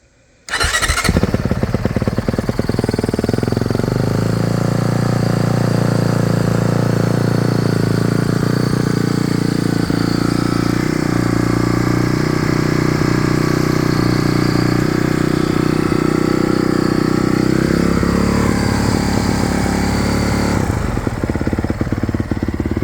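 A Honda CRF450RWE four-stroke dirt bike fires up and settles into a steady, loud idle close by, then the engine shuts off near the end, with no talking.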